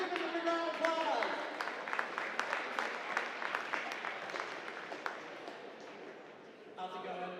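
An audience at a school presentation claps in a dense burst that slowly thins and fades over several seconds, with a voice speaking briefly at the end.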